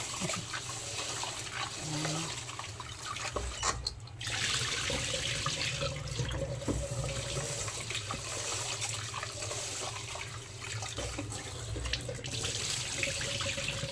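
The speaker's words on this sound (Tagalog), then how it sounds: "ginagawa ko pong tatlong hugas yung bigas" Rice is washed under a running kitchen tap: a steady, close rush of water flows continuously throughout, with slight shifts as the grains are stirred and rinsed.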